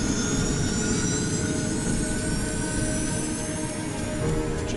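Jet engines of an Air France airliner roar at full power, a loud, unbroken rushing drone with a high whine slowly shifting in pitch, constant throughout.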